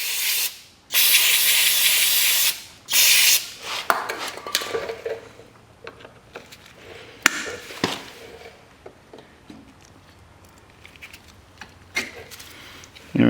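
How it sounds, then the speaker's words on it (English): Two loud bursts of brake cleaner spray hiss near the start, followed by clinks and scrapes of metal parts and brief rustling while servicing a KTM Adventure motorcycle's front brake. "We're going to spray it down with a little bit of brake clean."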